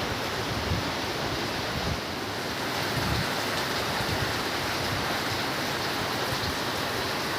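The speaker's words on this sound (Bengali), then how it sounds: "প্রচুর বৃষ্টি হচ্ছে বাইরে" Heavy rain pours outside on a hilly mountain road, a dense, unbroken roar of falling water, loud and steady throughout with no pauses or voices.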